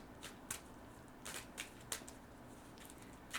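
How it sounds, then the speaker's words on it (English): Soft, quiet riffling and snapping of oracle cards being shuffled, in several brief bursts with gaps between. "They're just oracle cards, so we'll shuffle some more."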